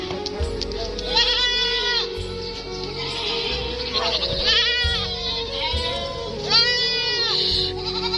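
Several goats on a goat farm rooftop bleat loudly and repeatedly in long wavering cries, overlapping one another close by over a constant background murmur.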